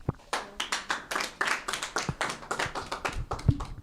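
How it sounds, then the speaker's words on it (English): An audience applauds a child at a children's journalism training graduation ceremony. The claps are sharp and close, in an uneven rhythmic run, with a short vocal sound near the end. "So 1 clap for Gladys, 2 claps."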